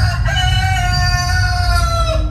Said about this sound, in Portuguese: Neste momento, canta o galo.